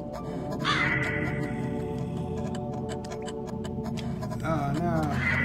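A crow in the video game Back to Bed caws in loud, harsh bursts, one near the start and another near the end, over a steady droning music bed with faint rhythmic ticking.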